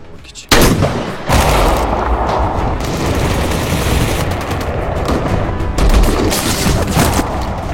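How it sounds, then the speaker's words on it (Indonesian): Sniper gunfire in a war film about Turkish special forces fighting rebels, heard as loud, dense bursts of shots and booms that run almost without a break, with a heavy blast near the start. "sniper musuh melepaskan serangan yang membuat Arif begitu gembira"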